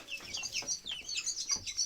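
Young chickens cheep and cluck in high, rapid bursts close by, a busy continuous chatter with no voices.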